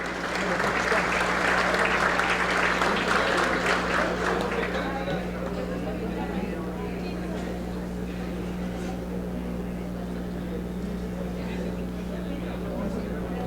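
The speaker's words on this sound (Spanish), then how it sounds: "López Salas, consejera propietaria del IDAI, para quien pido un fuerte aplauso" Applause from the audience at a public forum on transparency swells loudly for the first few seconds, then fades into a thinner patter and room murmur that lingers to the end.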